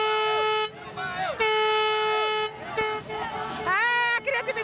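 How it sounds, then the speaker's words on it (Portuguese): A bus horn honks in several long, loud musical blasts, the notes sliding up and down, with brief gaps between them. "Tem até buzina, toca a buzina aí"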